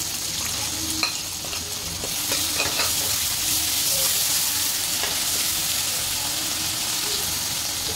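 Onion paste, garlic, green chilli and cumin paste fry in a pan for a home-style mutton curry. A steady, bright sizzle hisses throughout, with occasional light clinks from stirring.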